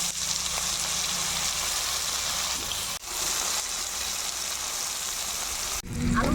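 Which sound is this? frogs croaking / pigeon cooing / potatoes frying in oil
potatoes frying in oil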